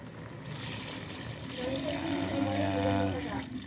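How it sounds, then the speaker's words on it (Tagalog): Water pours into a cooking pot, a rising splash and gurgle building over a few seconds under low background noise. "lagyan na natin ng tubig"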